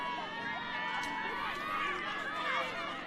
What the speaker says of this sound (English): You can hear the crowd there getting very vocal right now